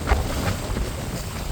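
Strong wind gusts over a rough, churning sea on the Kolumbuthurai coast at Jaffna, with boats tossed and sinking; a loud, continuous broadband roar with buffeting bursts, no voices.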